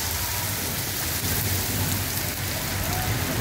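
Heavy rain with hail pours down in Quetta as a dense, continuous hiss and patter, loud and close, with a low rumbling underneath and no voices.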